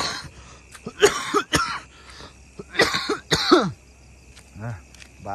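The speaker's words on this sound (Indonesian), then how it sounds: "Nah, batuk ini." Several harsh coughs and throat-clearing bursts, close by, spaced irregularly with short pauses, over a low steady background hum.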